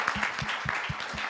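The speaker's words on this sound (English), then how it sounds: "Let's give him a round of applause." Audience applause at an induction service, a short burst of distinct, rhythmic hand claps with some overlapping clapping behind them, close and moderately loud.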